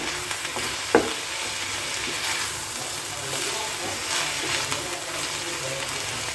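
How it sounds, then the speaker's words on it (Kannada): Greens and garlic fry in oil for chutney, giving an even, close sizzle with faint stirring and one brief knock near the start. "ಇವಾಗ ಚೆನ್ ನಾಗಿ ಫ್ರೈ ಆಗಬೇಕು ಎಣ್ಣೆನಲ್ಲೇ"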